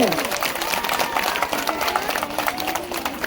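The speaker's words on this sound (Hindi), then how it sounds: "जोरदार तालियां उनके लिए।" Crowd applause at a village Ramlila closing event, dense sustained clapping from many hands over crowd noise and a voice on loudspeaker, steady and fairly loud throughout.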